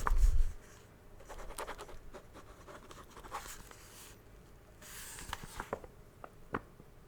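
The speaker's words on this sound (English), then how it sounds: "I'm just going to write some notes" Pen scratching across a notepad in short strokes and scribbles, soft and close, with brief pauses between bursts of writing and a light thump at the start.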